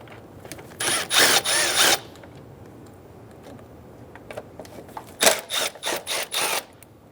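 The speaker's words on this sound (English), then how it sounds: "Using an 8mm socket, remove the 4 bolts for the air box." An 8mm socket on a ratchet backs out air box bolts on a 2003-2008 Honda Pilot, giving two close bursts of rapid clicking separated by a quiet pause.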